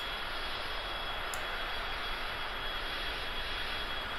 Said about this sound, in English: This little jet, for being a freeware plane, is really fun.